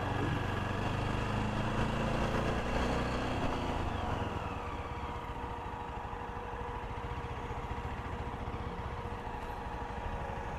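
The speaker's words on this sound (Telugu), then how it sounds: "ఇక్కడ ఫుల్ ట్రాఫిక్ ఉంది." Road traffic rumbles nearby, with engines idling and revving and a vehicle passing early on, then a steadier mechanical hum.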